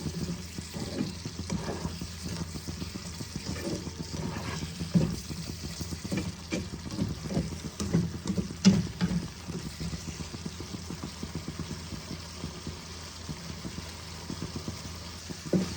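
Masala for an egg and potato curry sizzles in hot oil in a pan, a soft, steady crackle with faint stirring scrapes and small pops, no voices.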